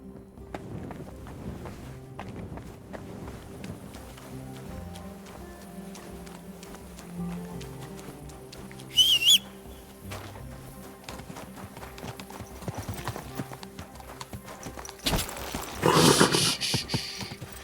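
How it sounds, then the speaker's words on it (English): A horse's hooves clip-clop steadily in the medieval video game Kingdom Come Deliverance 2, close and rhythmic under soft background music, with a brief sharp burst midway and a louder scuffle near the end. "Easy, good horse."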